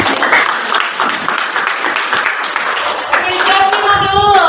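A classroom breaks into applause for a student during a maths lesson, dense steady clapping from many hands throughout, with children's voices and chatter rising near the end.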